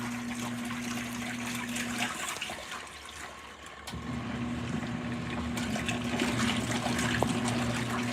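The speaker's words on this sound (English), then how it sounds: "So now we are doing agitation." An LG ThinQ washing machine agitates water during a hot wash cycle on a whites load of bedding, with a sloshing, churning rumble over a steady motor hum that pauses briefly midway before resuming.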